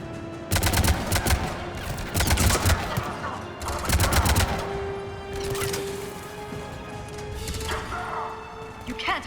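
Bursts of gunfire from a Mass Effect 3 battle, with several loud rapid volleys in the first half and softer scattered shots later, set against steady game background sound and a hum.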